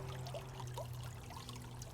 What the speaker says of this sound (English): Just a quick little tank clean and some fresh water.